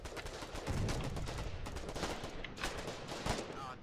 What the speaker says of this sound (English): he's shooting us with AT rifles, that guy